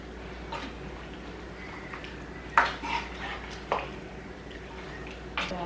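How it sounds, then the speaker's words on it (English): A spoon scraping and clinking against a pot of homemade chili as it is stirred, with a few sharp metallic taps over a quiet, steady kitchen background. "I'm gonna go ahead and give it a stir."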